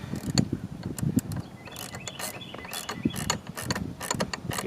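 A ratchet driving a 3/8 socket while a bracket for a 16-inch Ridgidhorse LED light bar is mounted, giving rapid clicking bursts, close and fairly loud, with mechanical rattles and no talk.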